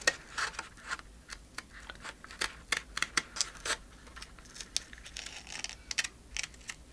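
Scissors snip through decorative paper while a flip flop journal page is trimmed, giving a string of sharp, close, irregular clicks and rustles with short pauses between cuts and no talking.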